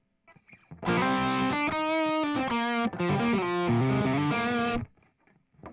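Electric guitar run through effects, sustained distorted notes and chords ringing out loud and steady for about four seconds, with no voices.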